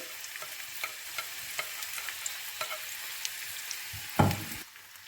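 Tomatoes and green chilies fry in warm oil for a Pakistani-style zucchini dish, a soft continuous sizzle with light regular stirring ticks and one louder clatter near the end, close and quiet with no voices.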